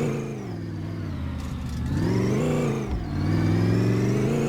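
A truck engine revs steadily and loudly, its pitch rising and falling in a couple of swells before climbing again; no voices.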